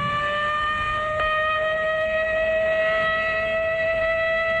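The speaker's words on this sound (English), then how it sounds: "But tomorrow, this siren may mean the real thing." A civil defense siren wails in a steady, sustained tone during a practice drill, loud and unbroken throughout with no voices over it.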